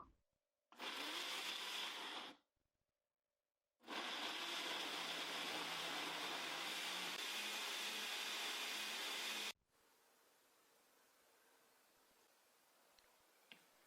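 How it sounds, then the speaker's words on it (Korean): A blender roars loudly in two bursts, grinding carrots, almonds and cinnamon for a flourless, sugarless apple-carrot-almond bread, a short run then a longer grinding spell, before cutting off to quiet room tone. "믹서기에 갈아주세요."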